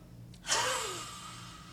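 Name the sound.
person imitating a lion's roar, yoga lion pose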